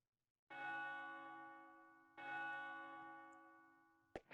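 A resonant bell in the video game Ys: The Oath in Felghana strikes twice, each chime ringing out and slowly decaying, followed by a brief sharp clatter at the very end.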